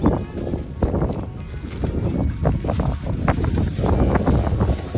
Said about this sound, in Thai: เฮ้ยวันนี้ลมดีมากเลยอะ ลมดีมากเลยอะ